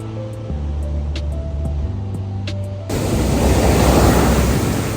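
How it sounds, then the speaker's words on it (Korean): Ocean waves crash loudly onto the shore during high swells at Jeongdongjin on Korea's east coast, sending up a broad hissing roar after a quieter stretch with a low steady hum. "부서지는 파도 소리를 들으니 스트레스가 다 풀리더라고요"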